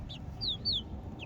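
Young rooster chicks around four weeks old in a pen give a few short, high chirping calls, fairly faint over a low steady background rumble.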